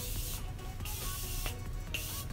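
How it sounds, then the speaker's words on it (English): Makeup setting spray misted onto the cheekbones, a few soft, close hissing spritzes over a steady airy background. "On my cheekbones, I just wanna go in with a little bit more of that spray."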